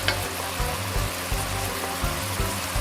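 Tofu sauce stir-frying in a pan, a steady close sizzle with soft bubbling and a few scraping stirs at regular intervals, no voices.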